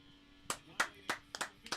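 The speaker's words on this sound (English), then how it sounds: "Round of applause and a salute." A few scattered hand claps, about five sharp separate bursts, sound at an Indianapolis 500 race watch-along, faint and sparse, with no steady crowd roar.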